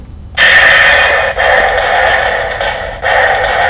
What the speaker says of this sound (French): quand on appuie, il y a un petit son d'attente